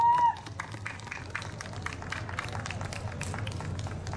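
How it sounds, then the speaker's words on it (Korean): Audience applause for a children's choir of international school students after their performance, steady dense clapping from a crowd that starts after a brief tone and continues evenly throughout. "박수를 부탁드리겠습니다."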